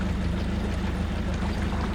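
A narrowboat engine idles at tick over on the Chesterfield Canal, a continuous low throbbing rumble with faint watery wash, steady and close with no talking.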